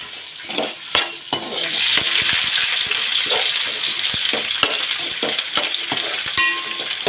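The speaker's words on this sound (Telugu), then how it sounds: "ముందుగా ఆయిల్ వేసుకుంది జీలకర్ర అండ్ ఎండుమిర్చి" Cumin seeds and dried red chilies fry in hot oil in a home kitchen, giving a steady close sizzle broken by scattered clinks and scrapes of stirring in the pan.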